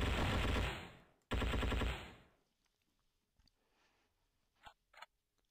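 Gunfire from shotguns in the video game Endless War 3: two loud, dense bursts of rapid shots up close, then quiet with a couple of faint distant pops.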